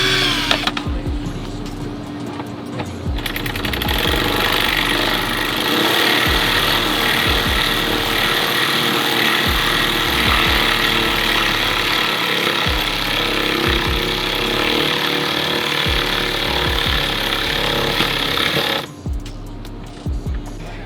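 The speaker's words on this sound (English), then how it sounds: "So I'm just gonna drill a hole here and then re-insert the bolt here." A power drill bores a hole through a car fender during a widebody kit fit-up, a loud continuous grinding whir lasting most of the span with rhythmic low knocks, starting and stopping abruptly with quieter pauses at either end.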